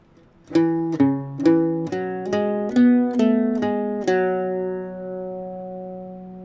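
An Irish bouzouki plays a short melody of about eight bright notes in an even rhythm, the last note ringing out and fading.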